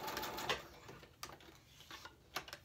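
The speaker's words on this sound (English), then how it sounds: "I am still in love with this Brother. It's a great beginner sewing machine." A Brother XS2080 computerized beginner sewing machine runs quietly, giving irregular faint clicks and taps with no voices.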